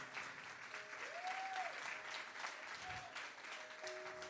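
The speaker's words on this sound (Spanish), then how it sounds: "¿Alguien le da un aplauso al Señor por eso?" A church congregation applauds during a sermon, a steady wash of many hands clapping, faint and distant, with a few brief tones over it.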